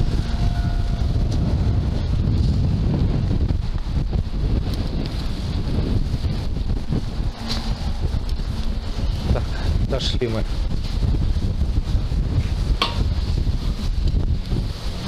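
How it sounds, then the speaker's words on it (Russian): Strong, continuous wind roaring across the microphone for the whole stretch in Zheleznovodsk, with a few brief spoken words over it. "это ветер, а? Это же надо такой ветрище, подумай."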